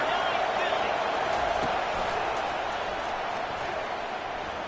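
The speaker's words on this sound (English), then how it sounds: "Here comes this home crowd as the defense tries to get off the field on third down." Steady crowd roar from a home crowd in the NCAA 25 college football video game, as the defense tries to get off the field on third down, sustained and loud throughout under faint background talk.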